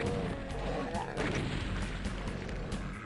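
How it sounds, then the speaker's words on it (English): Explosion in the 1993 game Doom on the Knee Deep in the Dead episode, a dense, loud, crunchy blast and burst of debris with a sharp impact near the start, sustained over continuous noisy game sound. "The sound of that explosion, oh my word, guts everywhere."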